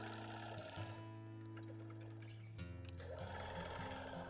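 A sewing machine stitches a red and white quilt, running steady and continuous close by as it travels outside the basting line and along the ditch, its motor hum briefly changing pace partway through.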